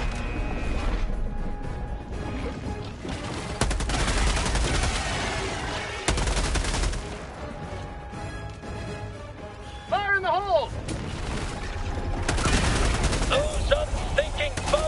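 Rapid gunfire and heavy impacts from battling bugs in the video game Helldivers 2, loud and dense throughout, with bursts of shots, crashes and a spoken voice over the chaotic combat.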